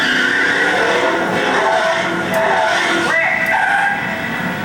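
A car skids on a studio soundstage, tires squealing loudly and repeatedly like racing, with an engine roaring underneath.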